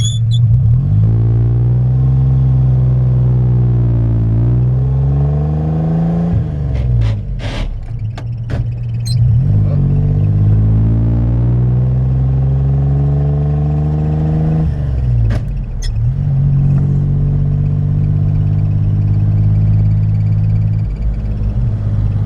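A 1941 Chevrolet Business Coupe with dual exhaust and one holed muffler, its engine rumbling loud and close, rising and falling through several revs and gear changes, with brief clatters between shifts.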